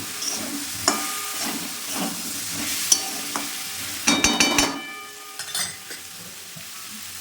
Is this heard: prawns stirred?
yes